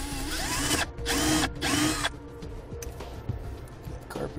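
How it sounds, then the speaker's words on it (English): A power drill bores a hole into a 2005 NuWa Discover America fifth wheel trailer in two short, loud whirring bursts, followed by quieter handling noises and rustling nearby. "we're ready to get our hole drilled."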